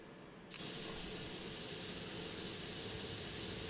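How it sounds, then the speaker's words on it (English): In the DCS flight game, a C-130 auxiliary power unit spins up. Low rumble, then about half a second in a sudden steady broadband roar that holds even and continuous. "APU starting up. So we can get our left engine started."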